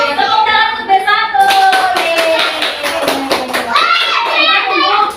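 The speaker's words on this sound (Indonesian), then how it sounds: "Tepuk tangan untuk B1." Schoolchildren in a classroom clap together for their group after a rice-cooking activity, quick rhythmic hand claps mixed with excited young voices and chatter, loud and close.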